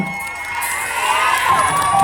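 An audience at a mor lam folk performance cheers and shouts to welcome a 13-year-old lead performer, a loud rising swell of crowd voices and whoops close by.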